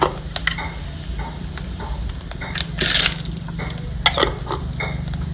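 Chana dal, mustard seeds and cumin frying in hot oil in a village kitchen, a steady sizzle with crackling pops and a few scraping stirs of a spoon against the pan.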